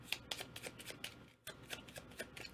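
Playing cards shuffled during a solo tabletop play-through of the board game Salton Sea: a quick, close, crisp riffle of rapid papery flicks and snaps in short bursts, with a brief pause midway and no talk.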